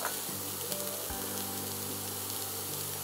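Vegetables, beans and green chilli frying in hot oil give a steady close sizzle with faint crackles and a few soft knocks.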